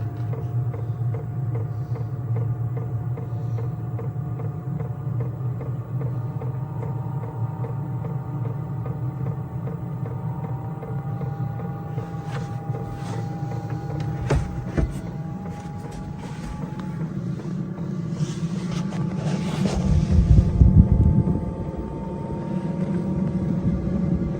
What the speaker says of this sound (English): So you can hear the pump, hear it firing up. It's getting faster.